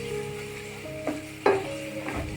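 Curry leaves and a chilli sizzle and crackle in hot oil while being stirred, a steady frying hiss with a few sharper pops and spatula scrapes.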